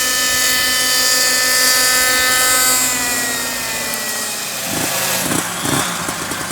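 A Thunder Tiger Raptor 50 nitro RC helicopter engine runs at a loud, close high-pitched whine that slowly falls in pitch as it winds down, with a few soft knocks near the end.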